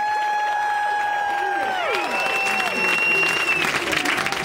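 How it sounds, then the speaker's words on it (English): Wedding guests at a reception applauding, a sustained burst of clapping that swells after a few seconds and holds, with tonal ringing sounds fading out beneath it as it begins. "So must have a very good round of applause for them"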